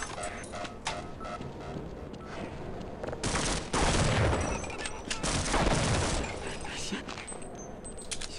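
Point-blank shotgun blasts in the Half-Life video game: a run of sharp, loud broadband bangs, clustered close together in the middle, over a busy game soundscape, with a voice talking throughout.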